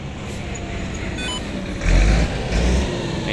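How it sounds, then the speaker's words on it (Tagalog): Steady road traffic on Loakan Road with many vehicles passing close by, a continuous broadband wash of engines and tires that swells with deeper low rumbles from heavier vehicles midway through. "ang daming sasakyan na."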